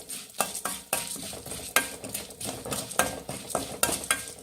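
Cumin, cinnamon, cloves, pepper and cardamom dry-frying on low flame for bisi bele bath powder, with a spoon stirring and clinking against the pan in close, irregular scrapes over a faint sizzle.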